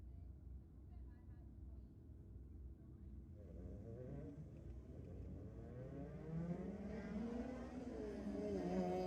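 Drag racing cars, including a Corolla, at a Sydney drag strip. A rising engine roar builds from a distance and grows louder under steady announcer commentary.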